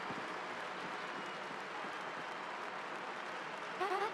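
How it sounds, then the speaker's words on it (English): Crowd cheering in the Paper Mario: The Thousand-Year Door video game, a faint, steady wash of applause and roaring with no breaks, ending in a brief burst of bright chiming tones. "The crowd is going wild for Gonzalez, our third champion."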